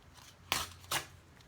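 Scissors cut paper to size for a handmade Halloween journal, two crisp snips close by in a quiet room.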